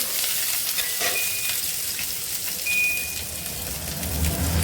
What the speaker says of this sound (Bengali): পেঁয়াজ কুড়িটা আমরা ভালো করে ভেজে নিলাম